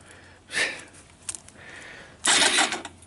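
A Suzuki Quadrunner LT160 ATV with a bent frame and low compression has its starter cranking in two short bursts, a brief whir and then a louder, longer grind, close by with a quiet pause between.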